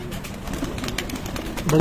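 A Ferozpuri pigeon coos softly at close range amid low background noise, its low throaty call strongest at the very end.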